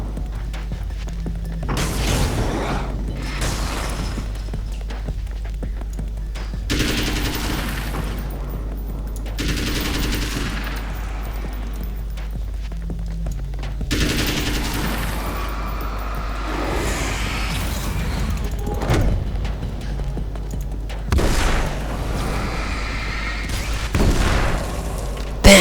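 Weapon fire in Alan Wake's American Nightmare, a series of loud shots and booming bursts with occasional fusillade-like volleys, repeating through the clip over a steady game backdrop.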